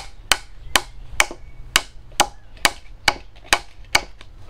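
A hammer strikes wood outdoors while a ladder is built, nine sharp, evenly spaced blows about half a second apart, loud and close, with no talk over them.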